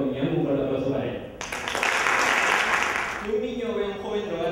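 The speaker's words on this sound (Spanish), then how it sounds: "un fuerte aplauso para él" Audience applause at a citizen debate contest final, a dense swell of clapping that rises after a spoken introduction and fades back into talk.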